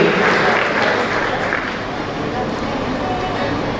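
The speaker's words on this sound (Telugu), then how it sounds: "గట్టిగా చప్పట్లతో మీరు ఆహ్వానాన్ని తెలియజేస్తుందిగా కోరుతున్నా" An audience at a Brahmin service federation job fair in Greater Hyderabad claps steadily in a dense wash of applause to welcome a guest, loud at first and easing slightly, with murmuring voices mixed in.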